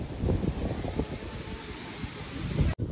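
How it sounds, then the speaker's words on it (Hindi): Strong storm wind roars steadily and close against the microphone during a sudden squall, with gusting rumble and buffeting filling the whole stretch, cutting out abruptly near the end. "अचानक से ही मौसम खराब हो गया, आंधी तूफान आने लग गए,"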